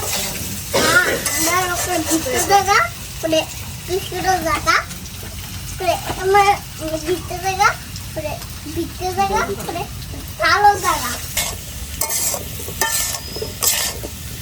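Whole small potatoes fry in hot oil, a soft sizzle with stirring scrapes of a utensil, while children's voices chatter and call out over it nearby.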